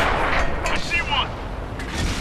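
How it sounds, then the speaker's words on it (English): Large-caliber short infantry support gun on a Panzer III medium tank firing in World of Tanks, heard as a heavy booming blast with rumbling tail beneath continuous game noise. "I'll use the infantry support gun, the large caliber"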